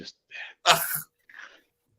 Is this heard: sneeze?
yes